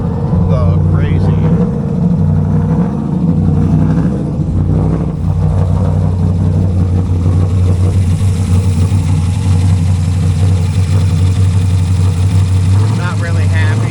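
A 2009 Dodge Challenger SRT-8 with a 6.1L V8 and a twisted intake rumbles nearby, its engine note rising and falling through a few revs over a steady idle, with talk at times.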